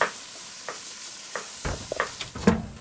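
Butternut squash pieces laid on a charcoal barbecue grill, giving a faint steady sizzle broken by a few soft clicks and placement knocks of tongs or pieces landing, close by with no talking.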